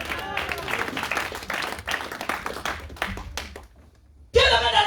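A church congregation applauds for Jesus in rhythmic, lively clapping over worship noise, fading to near quiet before a sudden loud burst of sound returns at the end.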